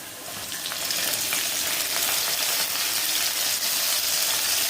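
Garlic fries in hot oil in a pan before moong dal is added for a dill greens dish, giving a steady, close, hissing sizzle with faint crackles and no voices.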